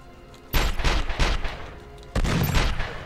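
Gunfire in the PlayStation 2 game 24: The Game (2006): two loud, close bursts of rapid shots, the first lasting about a second and a half, then a short lull and a second volley.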